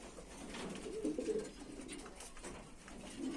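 Pigeons cooing softly beside a nest holding young birds and eggs, a low continuous murmur of coos at moderate distance with no talk.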